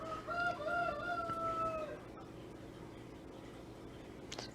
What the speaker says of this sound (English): Roosters just chiming in today.